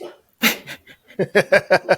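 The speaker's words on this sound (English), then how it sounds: "Yeah, there's my dog." A dog makes a run of short, breathy, rhythmic huffs or soft barks close by, repeating about eight times in quick succession.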